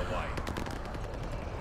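An STG assault rifle fires in Call of Duty: Vanguard, a quick run of close, rapid automatic shots over a short burst, with a voice talking at the same time.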